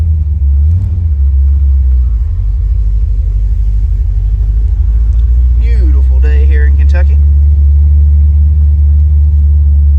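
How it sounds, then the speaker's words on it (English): A 1978 Pontiac Firebird Trans Am restomod's engine rumbles steadily at close range while driving, low and loud, while someone speaks briefly over it. "we're gonna take this 1978 Pontiac Firebird Trans Am for a test drive and see how it does"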